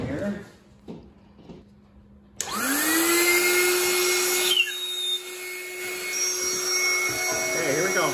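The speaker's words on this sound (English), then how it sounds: "So I'm gonna plug this pump in" A small electric air pump, rigged to blow an electric nose flute, switches on with a loud steady whine and hum that runs continuously after a few soft handling knocks, with a brief rising tone partway through.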